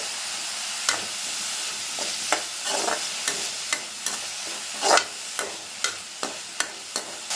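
Onions with curry leaves and salt sautéing in oil for a fish polichathu, a continuous soft sizzle broken by regular sharp scrapes of a spoon stirring, about one every half second, close and alone without talk.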